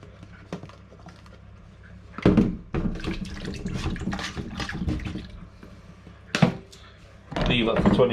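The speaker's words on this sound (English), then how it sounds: "Okay, so put some water in." Water runs and splashes into a container to soak ormers, with short bursts of pouring separated by pauses, heard close by with a voice speaking.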